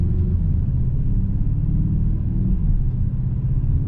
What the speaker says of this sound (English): Sport Plus mode, pulling away,